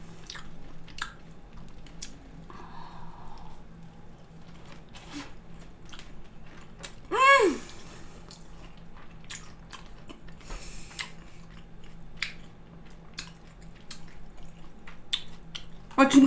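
Steamed cabbage being chewed: soft, wet bites and smacking come up close in scattered bursts, with one louder squishy bite partway through and a short spoken exclamation near the end.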